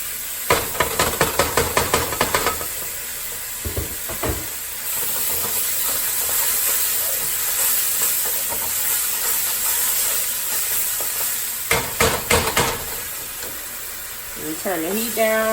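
Chili paste sizzling in a hot pan for a Cajun Asian fusion seafood boil, a continuous close hiss broken by bursts of rapid clattering stirring and scraping at the start and near the end, with a voice speaking briefly.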